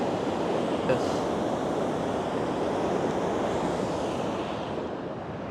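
A creek runs at high flow, rushing and roaring in a dense, steady wash that stays close and loud throughout. Nobody speaks.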